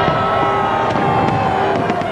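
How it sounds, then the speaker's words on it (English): Sydney New Year's Eve fireworks crackle and pop without a break, with scattered sharper bursts over a dense, loud wash of sound and a faint crowd behind. "Every year the pressure's on to make the spectacular New Year's Eve fireworks just that little bit more impressive."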